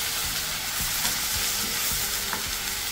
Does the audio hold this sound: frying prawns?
yes